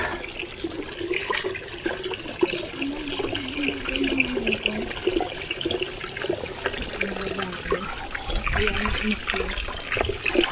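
Spring water flows and splashes steadily at a mountain spring on a Laguna trail, a close, continuous rushing sound, with voices talking over it throughout.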